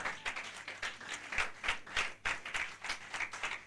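A church congregation applauds at a French-language preaching conference. The clapping is irregular and rhythmic, with claps bunched together, moderately near and steady for several seconds, with no talking over it.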